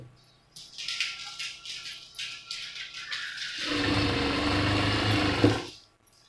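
A sewing machine stitching along a saree edge: short bursts of rapid needle clatter at first, then one longer continuous run with a heavier motor hum that stops abruptly.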